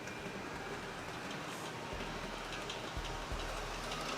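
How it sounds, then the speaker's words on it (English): An N scale model GO Transit train runs along its layout track with a steady, soft rolling rumble and faint wheel clicks throughout, no talk. "I think I'll wait for this GO train to make its way around."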